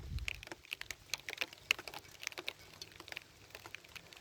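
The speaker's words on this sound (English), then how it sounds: "Let's see if we can show you it's raining." Rain falling outdoors as the evening darkens, heard as a faint, steady patter of scattered drops and light taps with no voices.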